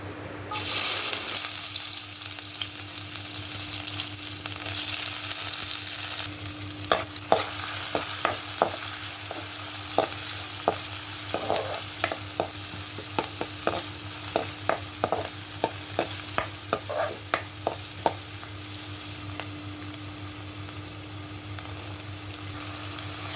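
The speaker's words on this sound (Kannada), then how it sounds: "ಬಾಣಲೆನ್ ಬೆಚ್ಚ ಇರದೀತೆ ಐಕ್ ಚೂರು ಎಣ್ಣೆನ ಮೈತದ ನೀರುಳ್ಳಿ ಟೊಮೆಟೊ ಕ್ಯಾರೆಟ್ ಪೂರ ಫ್ರೈ ಮಲ್ತೊಂಡು ಬೇತೆ" Onion, tomato and carrot fry in oil in a hot pan, a steady soft sizzle under a low hum, with a series of scraping stirs in the middle part.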